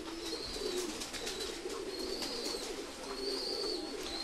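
Pigeons at a pigeon farm coo in soft, repeated rolling calls, several birds overlapping at close range against a steady background hum.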